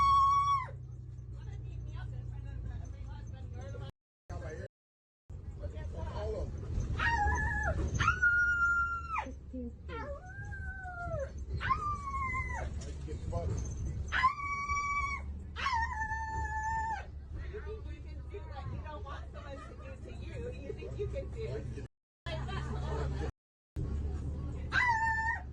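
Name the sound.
woman imitating a dog barking on a bus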